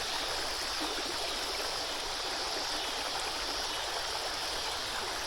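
Steady, full rush of water flowing through a spring-fed urban creek, close and continuous with no talking over it.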